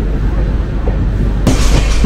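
Kumbha Express pulling out of Asansol station, a loud continuous rumble of rolling coaches with faint rhythmic wheel clatter, growing brighter and noisier near the end.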